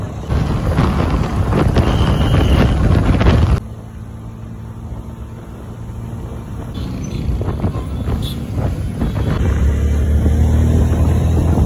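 Strong wind buffets the microphone with loud, continuous rumbling gusts, easing briefly partway through before building again.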